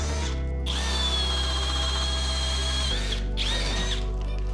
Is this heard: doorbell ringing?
no